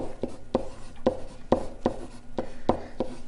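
Pen or pencil writing numbers into a polynomial by hand, a steady series of close scratchy strokes and taps on paper, each spaced about a third to half a second apart, with no talking.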